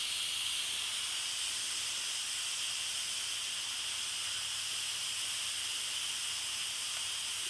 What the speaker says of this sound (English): when the steam releases, it gets all over my countertop